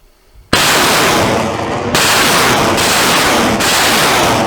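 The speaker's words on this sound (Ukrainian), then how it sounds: "Гармата! Постріл!" A sudden, very loud cannon blast booms out, followed by several seconds of heavy roaring and rumbling echo.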